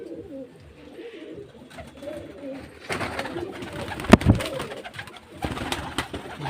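Girbaz pigeons coo in low, soft, repeated murmurs at a pigeon-selling home in Beldanga, joined partway through by rustling and a brief flapping clatter nearby.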